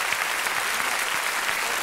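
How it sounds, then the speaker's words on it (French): A cabaret audience applauds a mentalist's card trick with loud, thick, continuous clapping that fills the theatre evenly from start to finish. "Applaudissez beaucoup"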